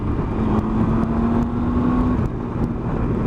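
A 2018 Triumph Tiger 800 XRT motorcycle engine accelerating in sport mode, a loud, close, steady drone whose engine note climbs smoothly for about two seconds before easing off.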